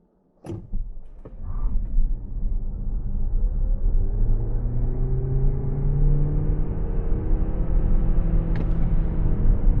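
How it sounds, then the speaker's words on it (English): A 2025 BYD Seal U DM-i AWD plug-in hybrid with 324 HP launches at full acceleration at night, a short clunk followed by a rising electric whine and growing road rumble heard from inside the cabin. "Hold the brake, floor the accelerator, and release the brake."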